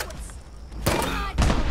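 A grenade launcher fires in a video game, with two loud, punchy blasts about half a second apart that stand out from a quieter background.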